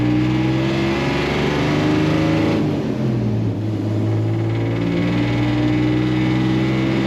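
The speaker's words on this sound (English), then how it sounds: "you may not have expected that exhaust note from this truck" A 1955 Chevrolet 3100 first-series pickup truck revs its engine, giving a steady, loud exhaust note with sustained low harmonics that dip slightly in pitch midway and then hold, with no talking.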